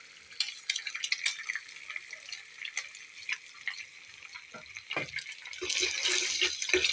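Eggs, two of them salted, frying and being stirred in a pan for noodles in a home kitchen, a soft crackling sizzle with scraping stirs and clinks that grows louder and denser near the end, with no talk.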